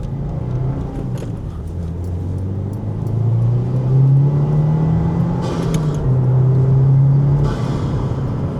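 A tuned Subaru engine running an 89-octane map pulls hard while driving, its deep rumble and whir climbing in pitch as the car accelerates, loud and steady from inside the cabin.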